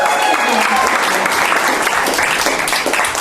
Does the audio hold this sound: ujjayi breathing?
no